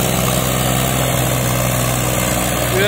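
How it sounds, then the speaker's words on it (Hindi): A Mahindra 265 DI tractor engine running with a loud, steady diesel drone and constant vibration, heard close up without pause or talk. "बहुत जबरदस्त ट्रैक्टर है"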